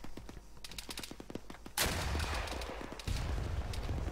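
An airburst round fires in Arma 3 with a sudden loud blast partway through, preceded by scattered distant shots and followed by a sustained roar and a second surge of noise.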